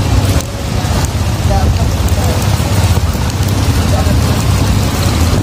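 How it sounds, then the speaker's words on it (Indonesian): Steady rain falling on the Musi River, a dense continuous hiss with a low rumble beneath, while a person talks over it. "Ya guys, suasana hujan di Sungai Musi ya."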